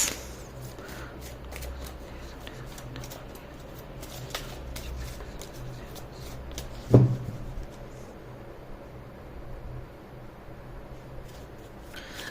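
Angel oracle cards are shuffled by hand, a soft, quiet riffling and sliding that runs continuously with one louder tap partway through.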